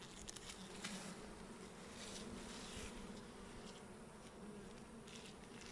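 A dense, steady hum of many honeybees buzzing at an opened hive, quiet and continuous, with occasional faint taps.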